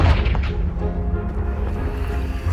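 A Confringo blast spell explodes in Hogwarts Legacy, one loud booming burst at the start followed by a rumbling, slowly fading decay.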